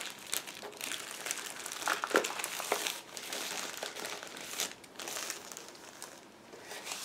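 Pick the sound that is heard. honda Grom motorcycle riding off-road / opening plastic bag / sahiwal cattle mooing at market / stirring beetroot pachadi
opening plastic bag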